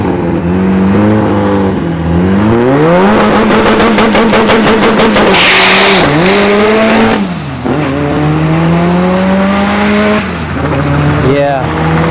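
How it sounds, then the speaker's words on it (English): A B20 turbo drag car at a dragstrip revs up in repeated rising and falling sweeps, loud and close, with a rattling burst in the middle and the engine dipping off near the end. "it acted like a gasser where it would like rev up and then just die"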